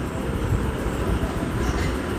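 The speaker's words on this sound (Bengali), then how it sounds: "ট্রেন তার নিজস্ব টাইম মতনই সিমলা পৌঁছে গেছে" The Shivalik Express toy train sits at Shimla station, a dense steady rumble of rail and engine noise close by with platform bustle, continuous over a short stretch.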